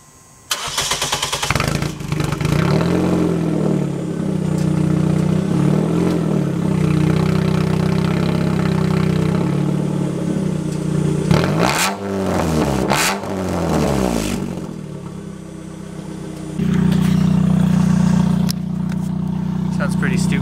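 A loud, raspy straight-piped car exhaust idles with a deep rumble, then revs sharply several times before settling back to a rough idle.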